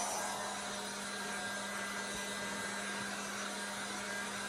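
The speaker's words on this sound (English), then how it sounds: "going to take my heat gun and just dry it a little bit here, so that I don't get it everywhere" A heat gun blows a steady, even whoosh of air with a constant low hum as it dries paint on a small upcycled sign, close and continuous throughout.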